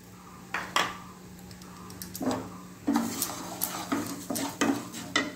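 Mung dal dry-roasting in a pan is stirred with a utensil, producing irregular close scraping and clinking strokes over a faint steady hum, growing busier toward the end.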